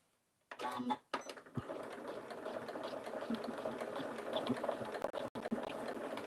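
A sewing machine stitching fabric pieced from scraps, whirring steadily and close after a couple of short starts, with the rapid needle rhythm continuing to the end.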